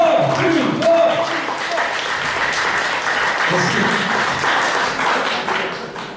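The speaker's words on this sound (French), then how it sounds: "Applaudissements! Plus fort, plus fort, plus fort!" A crowd at an anime and otaku morning show claps loudly and steadily, the applause close and sustained, with some voices and cheering mixed into the clapping.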